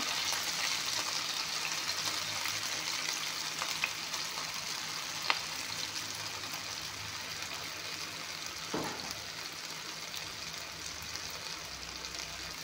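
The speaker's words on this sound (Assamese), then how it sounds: "এতিয়া ভালদৰে এফাল সিজিব দিছোঁ।" Okra (bhindi) fries in a pan with a steady, soft sizzle that crackles on without a break, fairly quiet, with a single faint clink partway through.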